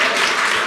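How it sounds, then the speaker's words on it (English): A brief, loud burst of audience applause at a book awards event, a dense wash of clapping filling the whole moment. "yeah, please clap."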